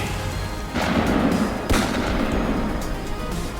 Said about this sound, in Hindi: तट पर गोलियां चली